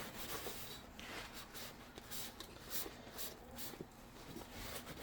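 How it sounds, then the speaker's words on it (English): Steady, close rubbing and scouring of a Scrub Daddy sponge against a dish, continuous and fairly quiet with a few brief louder strokes, no talking. "So scrub all around there."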